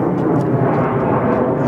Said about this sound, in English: Thank you, McCarran Airport, for your jet.